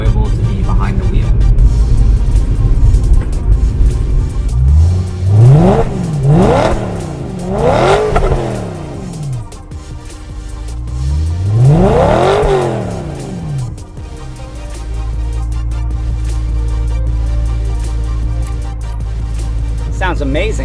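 A BMW E92 M3's V8 engine revs hard while driving, climbing through rising sweeps and dropping between gears, then settling into a steady cruising drone under a constant road rumble.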